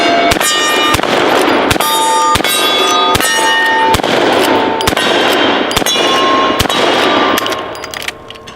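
A Marlin 1894 lever-action rifle fires a rapid string of loud, sharp shots at close targets, roughly a dozen cracks in quick rhythm with ringing between them, fading at the end.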